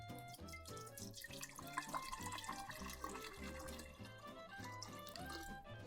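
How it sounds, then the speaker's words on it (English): Water poured from a tap into a litre container being filled a quarter full for a homemade lava lamp, a continuous splashing trickle with dripping texture, close and fairly quiet, with no talking. "So let's add some water into this."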